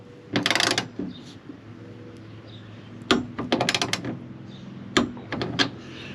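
A ratchet tightens a bolt on an Aluminess rear door rack mounted on a Mercedes-Benz Sprinter Thor Tranquility: three separate bursts of quick, crisp clicking at close range, with quiet pauses between them.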